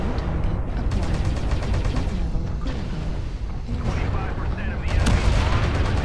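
Mech weapon fire in MechWarrior Online rattles through a battle, dense bursts of gunfire-like blasts and booms running continuously, loud and close, with a sharper cluster of shots toward the end.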